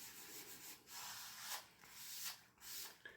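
Soft, dry rubbing of a magic rubber eraser across the surface of a vintage comic, in several close, gentle strokes with short pauses between them and no talking.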